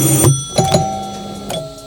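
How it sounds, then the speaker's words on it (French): Quiz game show buzzers are tested one after another, giving several short electronic beeps and tones, including a quick pair and a later single buzz, over a steady background hum. Nobody speaks. "On teste autant pour moi les buzzers."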